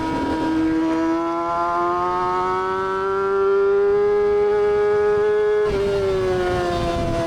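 A Kawasaki ZX-6R on a race track screams loudly at high revs in a steadily climbing engine whine, then drops sharply as it downshifts, with no talking over it.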